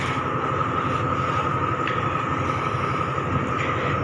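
Rapid train 112 rumbles steadily as it pulls in to stop at Chum Saeng station in Thailand. The loud, continuous roar has a sustained tonal whine on top, with no talking.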